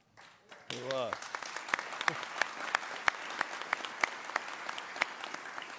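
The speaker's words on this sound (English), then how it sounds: "I'm gonna ask you to keep clapping" Audience applause at a military leadership award ceremony: after a brief voice, clapping swells and continues steadily, with sharp individual claps standing out near the microphone.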